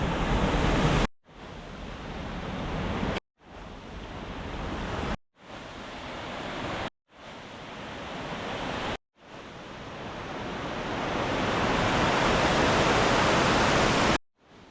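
A village waterfall in Idukki gives a steady rushing roar, broken by several sharp cuts into separate stretches, and it swells louder toward the end.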